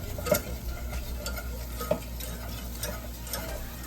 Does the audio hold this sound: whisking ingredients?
yes